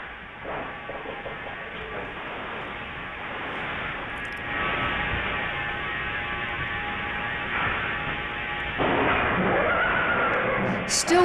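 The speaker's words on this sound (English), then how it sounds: "Now listen to the whinny." A horse whinnies with a high, wavering call over a steady background hum, followed by further snorting and calls toward the end.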